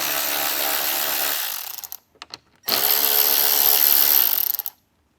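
Power driver backing out screws from an interior trim panel of a 2024 Jeep Wrangler JL, two steady whirring bursts of about a second and a half each, separated by a short pause with faint clicks.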